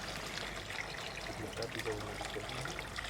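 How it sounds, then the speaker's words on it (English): Water poured into a container of seeds being rinsed and decanted after whitish mold was separated off, a steady close trickle and splash running throughout with a faint voice underneath. "Water is added to the container."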